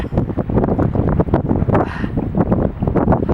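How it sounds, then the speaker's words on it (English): Strong, gusty wind buffets the microphone beside a carp fishing lake at Hasse Fen, a continuous loud roar with rumbling low-end surges and brief dips throughout, no voices. "Probably going to struggle to hear me again because the wind is so savagely bad."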